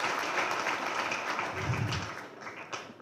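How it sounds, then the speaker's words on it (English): Dense applause from a school audience honoring a principal at an old students' gathering, a broad steady wash of many hands clapping that thins slightly toward the end. "Let's without another hand clap."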